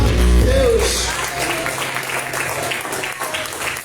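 Church congregation applauding during a Sunday evening worship service, a dense wash of clapping mixed with voices and a sustained musical tone, loud and close at first then settling into steady ongoing applause.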